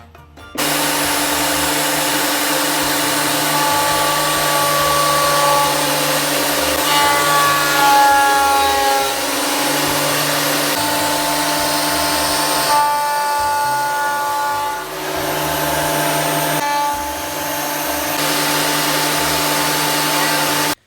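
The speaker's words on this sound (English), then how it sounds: "So this planer is pretty awesome." A loud wood planer drones continuously, a high steady whine with shifting pitch as it cuts scrap wood for a cutting board, running nonstop with no voices.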